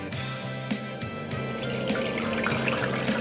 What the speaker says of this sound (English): We're going to start with 1 liter of cold water